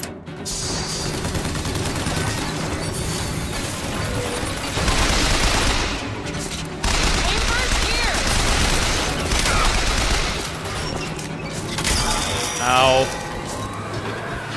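Sustained automated turret gunfire in the shooter game BioShock Infinite, dense and continuous rapid fire with crashes and booms, loud throughout amid other game noise and speech.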